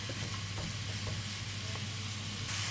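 Frozen minced beef softens and cooks in a dry pan with no oil, giving a steady close sizzle with occasional scraping stirs throughout.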